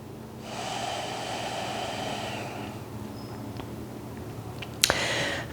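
Slow, steady breathing during a yoga twist flow, a long soft exhale-like hiss in the first half fading out, followed by a quieter pause and a brief sharp sniff near the end, close and alone without talk.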